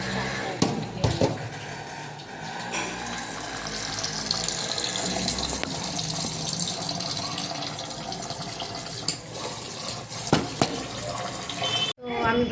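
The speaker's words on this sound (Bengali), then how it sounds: "চালটা একটু ধুয়ে নেব।" Tap water running over rice being washed in a pot, a steady gushing splash throughout with swishing and knocks of the grains and vessel, close, with voices faintly in the background.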